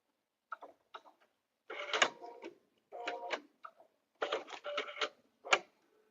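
Embroidery machine stitching a hem closed on an outdoor door sign, with rapid mechanical chattering bursts of needle strokes separated by short pauses, close and clear with no talking.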